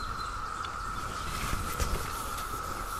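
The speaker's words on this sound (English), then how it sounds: "but there's some cicadas, I believe, in the woodland area here." Cicadas in a woodland area give off a steady, continuous hum, with a narrow buzzing band holding level throughout and a few faint rustles and clicks beneath it.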